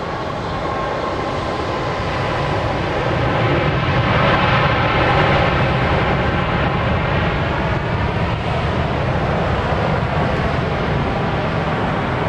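A jet aircraft roars at Dallas Love Field at night, a broad, steady engine rumble and whine that swells and then holds at a loud, fairly close level for several seconds without talk.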